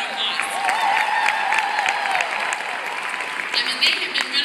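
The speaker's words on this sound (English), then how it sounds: "Give them a big round of applause." An audience at a career conference claps in sustained, dense applause throughout, fairly close, with a voice speaking over the clapping.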